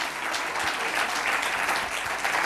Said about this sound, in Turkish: Alkışlayın adamı canım.